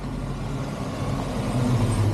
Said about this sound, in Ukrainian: ЮПС поїхав